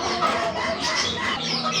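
Chickens for sale at a bird market cluck and chatter in a dense, continuous, close cluster of overlapping calls.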